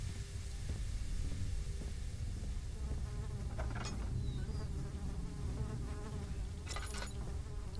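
Steady droning buzz of flies in Amnesia: The Dark Descent, continuous and fairly close, with brief higher clicks and scrapes rising over it and a low rumble underneath.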